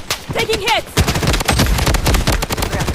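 Loud, close automatic gunfire from the shooter game Blood Strike rattles in rapid, continuous bursts, briefly overlapping a short voice at the start.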